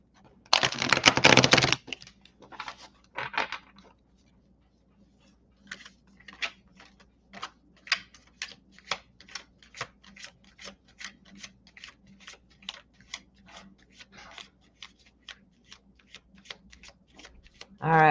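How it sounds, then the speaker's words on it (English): A deck of tarot cards being shuffled: a loud, dense burst of riffling at the start, then a long run of quick, close-up clicking and flicking card sounds with short pauses. "Let me give it another shuffle."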